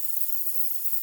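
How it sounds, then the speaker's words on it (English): A handheld kitchen spritzer mists baking racks over a counter with a soft, steady spray hiss that runs unbroken and fairly faint for about a second. "I'm actually going to take my kitchen spritzer and I'm just going to give it a few pumps"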